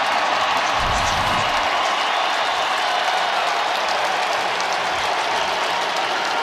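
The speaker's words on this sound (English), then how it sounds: "Standing ovation from the crowd" Stadium crowd at an NFL football game, Raiders versus Colts, giving a standing ovation, a steady broad roar of applause and cheering that holds evenly throughout, with brief low rumbles near the start.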